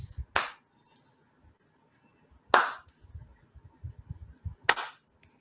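A group does a rocket clap, three sharp loud claps spaced about two seconds apart with soft shuffling and murmur between them.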